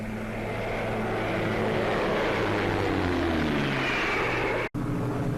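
A propeller airliner flying on one engine with three stopped drones steadily overhead at the 1952 Farnborough air show, its engine tone sliding lower as it passes, loud and continuous with a brief dropout near the end.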